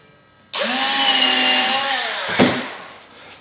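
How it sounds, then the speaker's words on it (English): A drill bores one hole in the bottom of a wooden bowl with a loud, steady high whine lasting about two seconds. It stops with a short clunk and then fades. "Drill one hole first."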